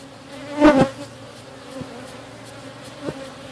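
Honey bees buzz around an opened hive as it is split, a close swell of droning wingbeats rising loudly then settling into a steady hum with occasional passing bees.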